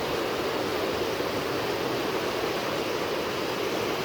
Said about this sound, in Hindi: पानी की आवाज़ बहुत ही सही लग रहा है।